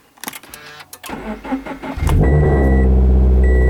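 A manual-transmission Subaru BRZ engine cranks with the clutch pedal pressed, a few clicks and whirs, then catches and roars into a loud, steady idle that continues to the end.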